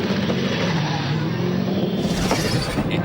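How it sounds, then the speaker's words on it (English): V8 Supercars running door-to-door out of turn 14 onto the straight at the 2003 Adelaide round, a loud continuous roar of racing engines held for about three seconds with no voices. "this is the door-to-door action between Mark Larkham and Stephen Ellery on the exit of 14 as they rejoin the straight there"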